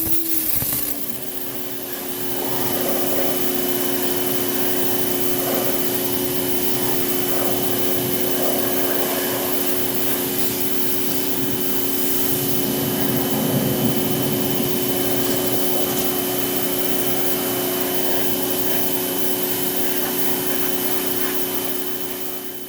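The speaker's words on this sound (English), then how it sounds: "then we're gonna hit that with the pressure washer and get that cleaned up really nice" A pressure washer cleaning the engine compartment of a 1984 Mercedes 300TD runs as a loud, steady hiss and spray from start to finish, with a constant motor drone underneath and no talking.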